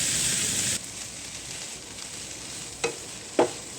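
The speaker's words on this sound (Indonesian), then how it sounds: "kalau udah diaduk-aduk sampai semuanya merata" Stir-fried papaya leaves in a pan give a loud hiss that drops to a quieter, steady sizzle, broken by two short scraping stirs toward the end.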